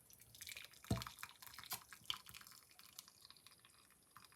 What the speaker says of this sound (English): Get that strainer and strain it off like this.